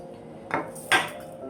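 A spoon clinks twice against a pot or bowl while soy sauce goes into a Thai soup, two sharp, close metallic taps about half a second apart over a quiet kitchen.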